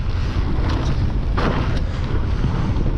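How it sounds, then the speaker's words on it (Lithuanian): Strong wind buffets the microphone on the exposed ridge at Mam Tor in the Peak District, a loud continuous roar with gusty surges and no other clear sounds. "vėjuota"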